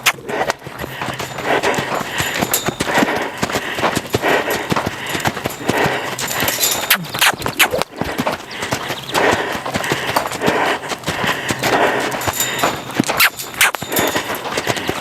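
A horse trots around a round pen, its hoofbeats making a continuous, fairly loud rhythmic clip-clop with scattered sharper thuds and a noisy outdoor background, and no talk.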